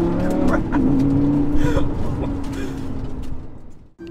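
Lamborghini Gallardo LP 560-4 with Sprint Booster accelerating from 0 to 60, the engine note rising and droning loudly from inside the car, with a voice speaking briefly.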